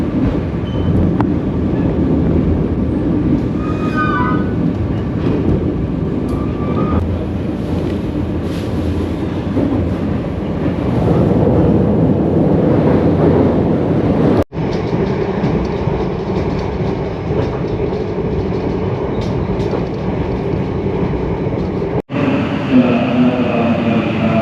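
A Kaligung economy class passenger train running from Cirebon rumbles steadily along the rails, giving a loud, continuous low roar with faint clicking and rattling inside the carriage.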